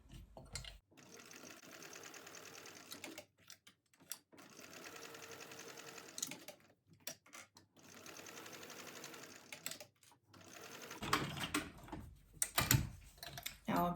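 Sewing machine stitching a zip onto a tote bag, running in quick rattling bursts with short pauses between, close and moderately loud, with faint handling sounds at the end.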